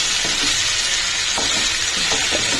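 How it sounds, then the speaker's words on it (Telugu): Tomato tossed and stirred with fried onions in a hot pan, a loud steady sizzle of frying under repeated scraping strokes of a spoon, close and continuous without any voice. "ఆనియన్స్ ఫ్రై అయిపోయాయి కదండి. ఇప్పుడు ఒక టమాటో వేసుకున్నాము. దీన్ని కూడా మిక్స్ చేసేద్దాం."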